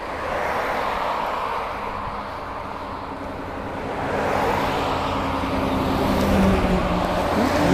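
A car passes on a road during a bicycle tour near Shizunai and Niikappu in Hokkaido, a rising roar of engine and tire noise over steady rumble, growing louder toward the end.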